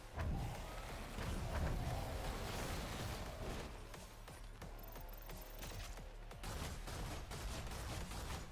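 Rapid video game gunfire hammers away in a steady stream of sharp shots during a boss fight, fairly faint and set against a rumbling, mechanical game backdrop.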